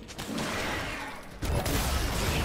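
Turbo shock rockets fire in a League of Legends match, a dense burst of blasts that swells sharply midway and stays loud to the end, with no talk over it.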